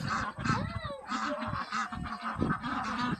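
Several Saxony ducks quack and honk close by, overlapping calls in an irregular, busy chorus, no talking.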